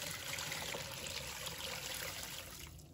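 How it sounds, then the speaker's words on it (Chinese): Clean water poured over a peeled white radish, a steady broadband trickle and splash running throughout, fairly quiet and close, easing slightly at the end with no talking. "再倒入清水"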